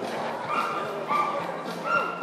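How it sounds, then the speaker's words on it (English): A yellow Labrador retriever at a dock-jumping dog show gives three short yipping barks at a steady pace, fairly close, over faint background noise. "Yellow Labrador Retriever, these are great family pets."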